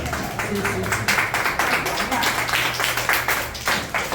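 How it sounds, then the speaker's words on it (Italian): An audience at an art exhibition opening applauds steadily, a sustained crowd of clapping hands with fairly even rhythm, moderately loud and close, with faint murmuring voices underneath. "Applauso."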